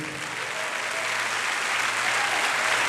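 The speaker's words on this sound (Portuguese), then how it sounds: "Vamos aplaudir ao Senhor." Church congregation applauding together, a steady sustained wash of clapping from many hands at close range, continuing evenly throughout.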